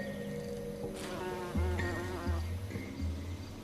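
Bumblebees buzzing around gentian flowers, close, droning hums rising and falling as the insects move, with several distinct buzzing tones overlapping.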